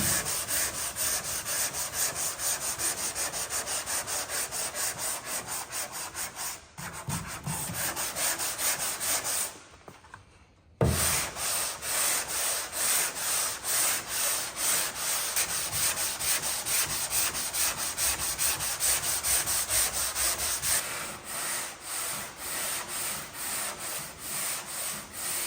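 Car bodywork primer gets sanded by hand with coarse 40 grit paper, making long steady back-and-forth rasping strokes, close and continuous, with a short pause partway through.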